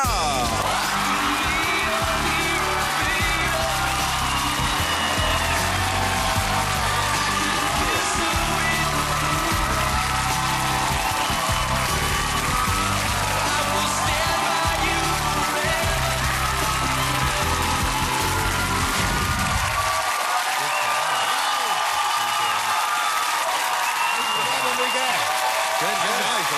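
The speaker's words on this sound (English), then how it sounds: "Mag ik een daverend applaus voor Enrique Iglesias?" Studio audience on a Dutch talk show applauding and cheering loudly for about twenty seconds, with whoops and yells in the crowd, then the applause stops abruptly and quieter talk follows.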